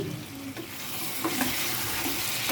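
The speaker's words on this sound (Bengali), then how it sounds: "তো এখন আমি আবারও নেড়ে ছেড়ে দিচ্ছি" Duck meat being slowly dry-fried dark (kala bhuna) sizzles in a pan with a steady close hiss while a spoon stirs it, with a few soft scrapes rising above the frying.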